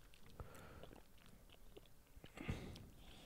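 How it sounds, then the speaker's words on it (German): Loud, wet chewing of cherries close to the mic during a podcast, soft smacking and biting sounds with a crunchy burst near the end, all quiet and without talking. "Ich bin so am ekelhaft am Schmatzen mit diesen Kirschen"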